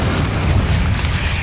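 A fire spell, Incendio, from Hogwarts Legacy bursts as a heavy, roaring boom of flame, loud and sustained with a low rumbling body across the whole moment.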